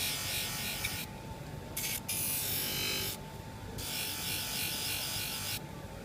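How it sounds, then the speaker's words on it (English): A hoof knife for cattle hooves is held against a polishing wheel to remove the burr and polish the blade, giving a steady buzzing whir with a few short breaks as the blade is lifted and reapplied. "I need to move it across to this wheel, and I'm going to take the burr off the back of the knife and just polish the front"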